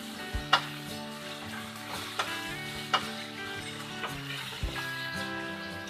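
Tomatoes and salt sizzling in hot oil in a pan for a matar mushroom curry, a soft continuous frying crackle with a few light clinks of a spoon against the pan.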